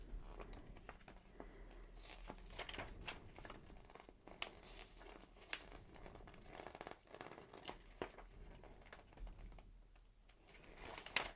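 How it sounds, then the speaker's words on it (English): Soft papery rustles and crisp flicks of pages being turned in an old Wii or GameCube game manual, repeated irregularly at close range with light handling noises and no talking. "so we can have some good page turning sounds"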